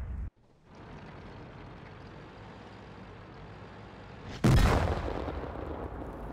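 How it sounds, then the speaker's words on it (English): A steady low rumble of tank engine noise in World of Tanks, then a sudden loud, booming gun blast at about four seconds that fades into a rolling roar. "These new explosions are pretty good"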